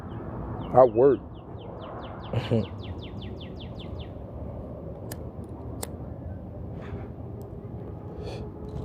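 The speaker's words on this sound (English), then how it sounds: "I hear the bird. They always chirping around here." Birds chirp outdoors in a series of quick, bright calls over steady background noise during the first few seconds. A short burst of other sound cuts in near the start.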